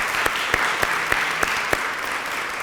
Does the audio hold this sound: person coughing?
no